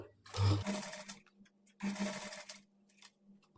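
A sewing machine stitches lace onto the neckline of a blouse in two short bursts separated by a pause, moderately loud and close with no talk.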